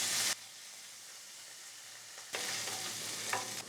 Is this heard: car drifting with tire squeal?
no